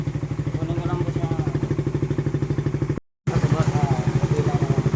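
A cold motorcycle engine, choked to get it going, runs with a steady, rapid thumping idle close by, broken by a brief cutout before picking back up, with voices talking over it.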